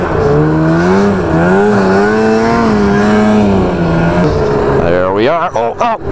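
A snowmobile engine drones loudly and close, its pitch climbing and wavering steadily as it accelerates, then swooping sharply up and down near the end as speed shifts.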